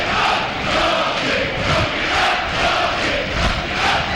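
A stadium crowd at a 2008 Huddersfield versus St Helens rugby league match roars and cheers continuously, a loud, dense wash of voices swelling in waves with no single voice standing out.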